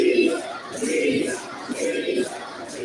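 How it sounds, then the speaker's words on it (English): Wrestling crowd in an arena chanting "pizza" in a steady rhythmic pattern, a broad mass of voices rising and falling across the whole stretch, fairly loud and unbroken. "Crowd chanting pizza."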